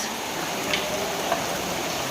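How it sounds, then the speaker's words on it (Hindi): Heavy rain pours steadily, a dense broadband hiss of drops drumming on surfaces, with a couple of slightly louder drips standing out; no voices. "और देखो भाई बारिश, जबरदस्त बारिश"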